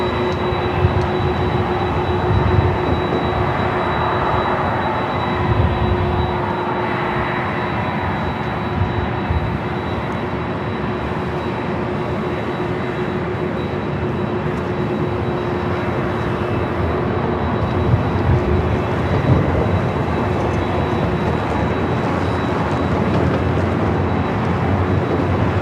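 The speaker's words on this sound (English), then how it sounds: "You can hear those 767s miles away." A Boeing 767 jet of a Delta flight bound for Honolulu takes off from LAX, a loud sustained roar and rumble heard from a distance that holds steady over the whole stretch, with no talk.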